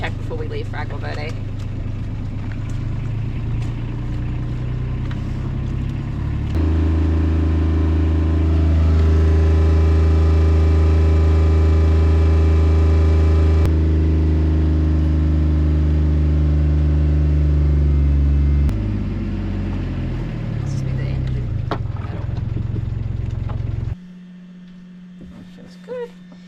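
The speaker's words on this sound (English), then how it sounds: "I'm just going to do a little carbon blast by putting the boat into a high RPM" A sailboat's engine idles, then revs up to a loud, sustained high-RPM roar for about twelve seconds to clear carbon before dropping back to idle and cutting off.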